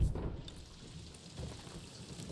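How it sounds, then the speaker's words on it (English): Rain in the Ghost of Tsushima video game falls as a soft, steady hiss of droplets with a low rumble of thunder, faint and continuous in the background. "Is it raining?"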